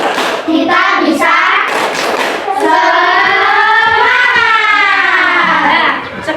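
Schoolchildren in a classroom doing a rhythmic clapping chant, loud voices chanting together with hand claps and thumps mixed in, close and energetic, ending in a drawn-out shout.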